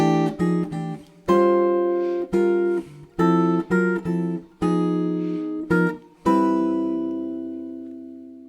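Jazz guitar comps a 1-6-2-5 phrase in rootless voicings, a series of clean plucked chords with short gaps, the final chord left ringing and slowly fading, played alone.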